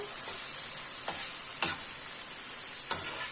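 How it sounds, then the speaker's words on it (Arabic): A spice mixture for liver is stirred in a frying pan, a soft steady sizzle with a few light scraping strokes of the utensil, close and fairly quiet with no talk. "هنقلب بقى كده تفوح بقى ريحتها"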